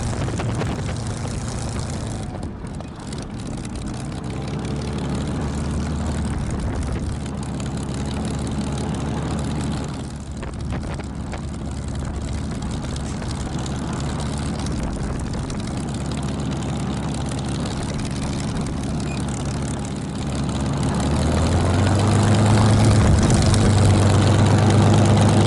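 Spitfire fighter taxiing on a hot day after an air display, its piston engine idling with a deep, steady propeller drone throughout, growing louder and heavier near the end as power rises.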